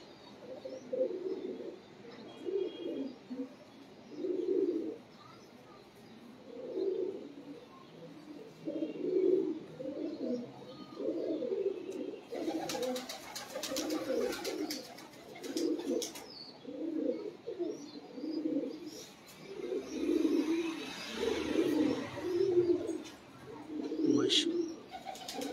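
Pigeons coo steadily in a loft, with a long run of low, rhythmic, evenly spaced calls repeating close by for the whole stretch, and a few brief rustles and clatters.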